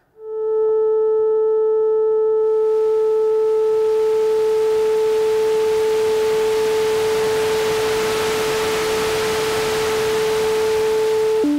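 Lorre-Mill Keyed Mosstone synthesizer holding a steady triangle-wave tone while hissing noise is faded in underneath, the noise swelling over the first few seconds and then sustaining alongside the tone, loud and alone, with a brief pitch change at the end.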